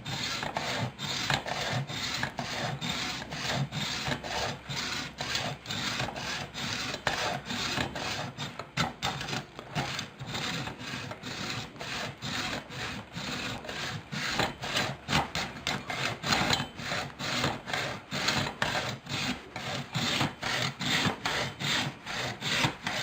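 A handsaw cuts steadily through deer skull at the base of the antlers, a close, continuous rasping with fast back-and-forth strokes that keeps going for more than twenty seconds without pause.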